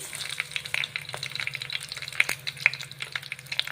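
Katla fish frying in hot oil, a steady crackling sizzle with scattered sharp pops and occasional light clicks of a utensil, close by.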